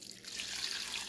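Warm water pours steadily into a pot of beans, a soft continuous splashing and trickling heard faintly on its own.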